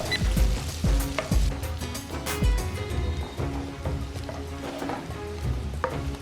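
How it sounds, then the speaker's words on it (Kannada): Onion and green chillies frying in a pan for jeera rice, a soft continuous sizzle broken by several stirring scrapes and clinks of a utensil. "ಈರುಳ್ಳಿ ಟ್ರಾನ್ಸ್ಲೂಸೆಂಟ್ ಆಗಬೇಕು, ಅಲ್ಲಿ ತನಕ ಇದನ್ನು ಫ್ರೈ ಮಾಡ್ತಾ ಇದ್ದೀನಿ."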